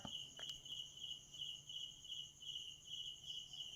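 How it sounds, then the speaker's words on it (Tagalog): Crickets chirp in a continuous high, pulsing trill, faint and steady, with no other sounds. "Yan ang ingay ng mga kuligli guys."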